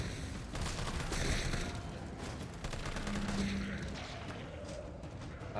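Gunfire in Resident Evil 3 Remake, a fast run of shots with rumbling impacts, loud and sustained over game music and noise, with a voice talking faintly underneath.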